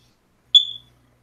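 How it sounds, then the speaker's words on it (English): A single short, high-pitched chirp from a smoke alarm signalling a low battery, sharp and loud, then fading quickly into silence in an otherwise quiet indoor room. "My fire alarm's chirping. I need to change the battery."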